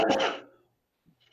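A single sharp sneeze during a committee meeting, close and loud, fading quickly into near silence with a faint breath or rustle afterward.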